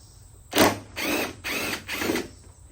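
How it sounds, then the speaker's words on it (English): A big impact wrench with a 5/8 socket hammers at bolts while a 54-inch mower deck is removed: four loud, close bursts of rattling impacts with short pauses between. "I got my 5/8 on my big impact."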